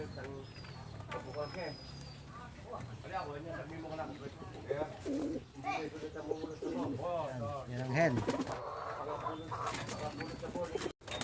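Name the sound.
pigeon cooing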